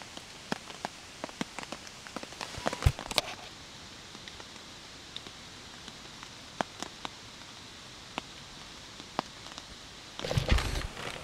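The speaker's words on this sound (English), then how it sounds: "listen to the rain." Soft, steady patter of rain falling on a tent at a campsite on the Superior Hiking Trail, with scattered sharper drops tapping close by, quiet overall, with a brief louder rustle near the end.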